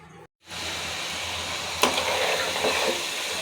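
Meat frying in a pan with cardamom, cinnamon, coriander and cumin powder, a steady close sizzle after a brief pause, with a few sharper crackles and stirring scrapes partway through.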